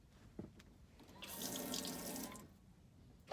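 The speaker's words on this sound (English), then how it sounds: "I have running water." Water runs steadily from a nearby tap into a small sink in a short-wheelbase camper van for a couple of seconds, then shuts off, with faint clicks before it starts.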